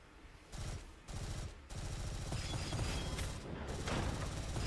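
Rapid gunfire from the second weapon in the shooter game Gunfire Reborn, a dense fast burst of shots that starts and stops in short bursts, then settles into a sustained rattling stream, with no talk over it.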